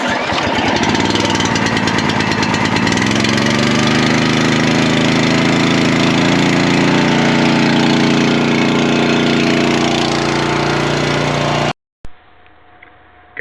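A Champion 40 ton log splitter engine, model 201091, is pull-started and settles into a loud, steady close-up idle with a rough mechanical chatter, then cuts out abruptly near the end.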